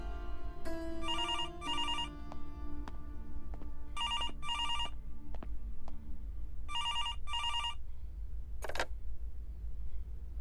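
Telephone ringing with bright electronic bell bursts, three paired double rings spaced a few seconds apart, over a steady low hum with some clicks and a brief squeak.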